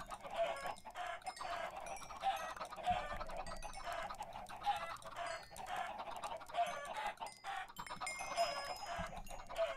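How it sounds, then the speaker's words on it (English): Chickens cluck continuously in the Minecraft video game, a dense, steady run of repeated clucks and squawks with no talking over them. "I'm gonna kill a bunch of chickens."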